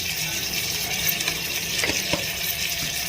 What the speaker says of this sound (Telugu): జింజర్ గార్లిక్ పేస్ట్ వేసి వేయించుకోవాలి